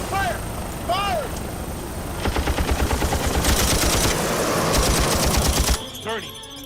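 Rapid machine-gun fire in a 2010 Moby Dick film battle at sea, with an aircraft and ships involved, rattles in steady loud bursts for several seconds after brief shouted voices.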